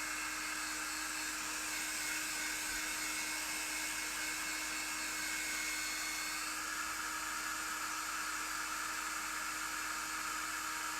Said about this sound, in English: I might get the hairdryer on it actually, because it's really soggy